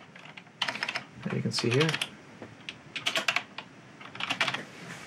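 Someone types a DOS command at the A prompt on a Compaq Deskpro XE 466 keyboard, with close, crisp clusters of key clicks in short bursts while someone talks between them.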